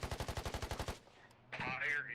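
Automatic gunfire in the Squad tactical shooter, a rapid burst of about ten evenly spaced loud shots over one second, then a brief gap before a voice cuts in.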